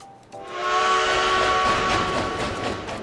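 A train whistle in the video game World of Final Fantasy blows as one long, loud, steady tone over a rumbling, hissing train, sounding close and filling the whole span.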